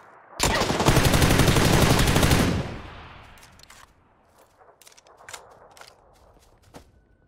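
A loud, rapid burst of automatic gunfire in a shooting video game lasts about two seconds and then fades, followed by scattered clicks and footstep-like taps.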